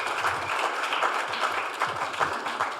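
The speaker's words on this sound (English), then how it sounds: "Give him a round of applause." Applause from a modest group, brisk overlapping claps at a steady level for a few seconds, no talking over it.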